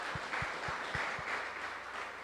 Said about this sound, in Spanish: Démosle un aplauso al Señor por esa independencia de nuestro país